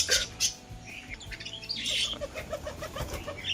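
Pet pigeons, including a pair of adults and young birds, make scattered chirps and soft calls amid wing flaps and rustling, close by and fairly quiet, with no talking.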